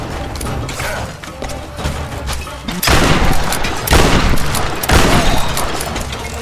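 Gunfire in Tomb Raider Game of the Year Edition, several loud heavy bursts landing a second or so apart over a busy, noisy game background.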